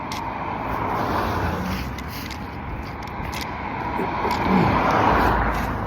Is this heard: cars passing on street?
yes